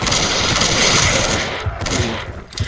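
Rapid P90 submachine gun fire in a video game, loud sustained bursts of automatic shots that thin out toward the end, with no talk over them.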